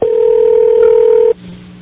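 A telephone dial tone, steady and loud for just over a second, then cutting to a quieter line hum as a prank phone call begins.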